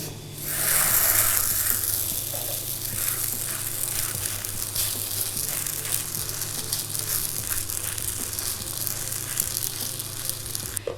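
Chicken for butter chicken fries in a pan with a steady, close hiss and crackle that holds evenly throughout, with no one talking.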